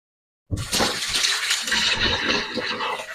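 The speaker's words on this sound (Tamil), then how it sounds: "இந்த அரிசியை நல்ல வடிவா நாங்கள் கழுவி ரெண்டு மூணு தண்ணியில கழுவி எடுத்துக்கொள்ளுவா" Rice is rinsed in water by hand while cooking prawn biryani, with a close, steady wet swishing and splashing that starts abruptly and continues without pause.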